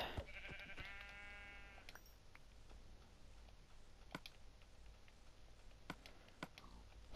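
Minecraft sheep bleat once near the start, a wavering synthetic baa, followed by sparse sharp tapping from a radiator in the room over quiet background hiss.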